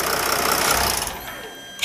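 A Jeep Grand Cherokee CRD with the OM642 diesel runs with a steady, loud mechanical drone that cuts out partway as the engine is switched off, leaving a short quiet tail and a final clunk.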